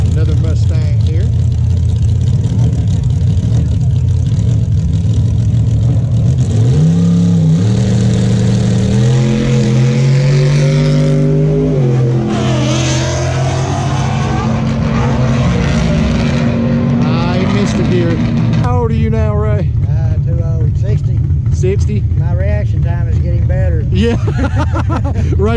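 A Ford Mustang makes a drag racing pass, its engine revving up through rising, roaring pulls and then fading. A voice talks over the engine noise throughout.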